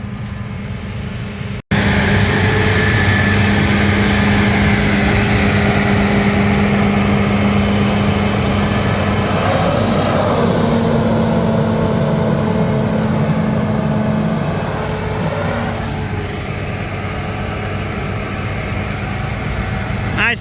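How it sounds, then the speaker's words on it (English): A new John Deere tractor engine runs steadily nearby, a loud continuous rumble with a steady low hum, briefly interrupted at the start and easing slightly toward the end. "Nice new John Deere tractor."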